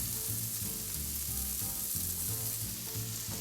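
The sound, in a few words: shaved shallots sizzling as they are added to the pan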